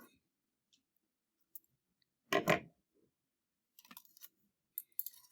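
Wire cut into lengths for a papier-mâché armature, heard as a few faint, sharp snips and clicks spread across an otherwise quiet moment, with one louder clipping crunch near the middle.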